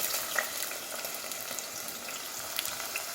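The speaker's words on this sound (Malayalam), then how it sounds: "ഈ സവാള ഒന്ന് മൂത്ത് വരട്ടെ." Sliced onions frying in oil in a pressure cooker, a steady bright sizzle with faint crackles, close and continuous, no voices.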